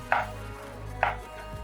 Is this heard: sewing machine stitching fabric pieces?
no